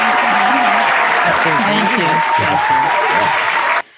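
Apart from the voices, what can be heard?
audience applause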